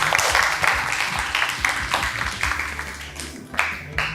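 Classroom applause from students, a short burst of clapping with rhythmic, uneven claps close by that thins out partway and picks up again briefly.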